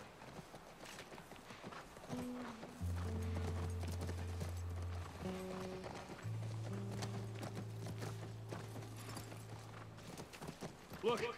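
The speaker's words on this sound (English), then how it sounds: "Nice relaxing frickin' horse ride after that shootout." Horse hooves clip-clop at a steady walking rhythm in The Last of Us, moderately close, with soft music playing underneath.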